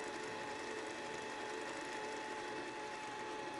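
A meat grinder churns through beef chuck with a steady mechanical whir and grinding rattle, constant and close, with no voices.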